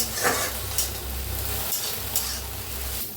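Cluster beans (gavar) stirred and frying in hot oil in a kadhai, a steady close sizzle with a few scraping stirs of the spatula and no talk.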